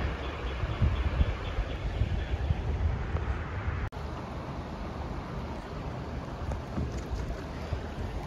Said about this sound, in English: That was a nice little rapids.